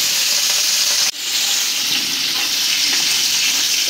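Rupchanda fish frying in hot oil in a wok, a loud, steady, broad sizzle heard close up, with a brief dip near the start before the hiss resumes.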